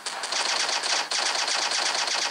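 Rapid automatic gunfire from the zombie mode of the mobile shooter game Phục Kích Mobile, a dense, continuous rattle of shots that runs loud and close for the whole stretch, with no voices over it.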